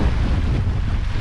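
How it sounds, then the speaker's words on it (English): Strong wind roars steadily across a sailboat at sea near Isla Carmen, a continuous low buffeting rush with wind noise on the microphone and possible waves underneath. "you can see where we picked up the wind"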